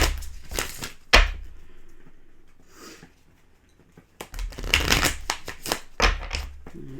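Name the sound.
oracle cards being shuffled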